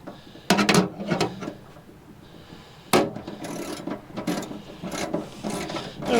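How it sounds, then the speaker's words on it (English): A crescent wrench tightens bolts while a remote steering console is installed on a 12-foot Marlon fishing boat, giving repeated close metallic clicks and ratcheting scrapes in short irregular bursts. "We'll just use our spanner crescent wrench here."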